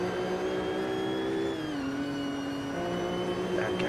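A Mercedes CLK GTR (Maures GTR) race car's engine pulls hard on the Nürburgring, a steady, loud, close mechanical whine that dips briefly as it shifts, then climbs again.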